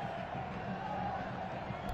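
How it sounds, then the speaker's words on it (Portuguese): Football fans in a stadium at a Campeonato Catarinense match, Avaí versus Figueirense, applauding a substituted player: a steady, distant crowd roar that holds evenly for the whole stretch, swelling slightly at the very end. "Sai Ranieri muito aplaudido pelo torcedor"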